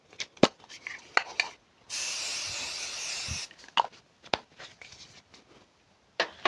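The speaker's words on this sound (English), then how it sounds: "now we're gonna go in with the Kryolan Fixing Spray." Kryolan Fixing Spray mists out in one sustained hiss lasting about a second and a half, surrounded by light clicks and handling noises of makeup products.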